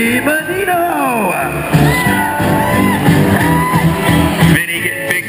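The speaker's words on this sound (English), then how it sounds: "Vinny getting big cheers for good reason" A crowd at a BMX event in Toronto cheers for New Jersey rider Vinny Menino, with loud overlapping whoops, yells and shouts sustained throughout, close and energetic.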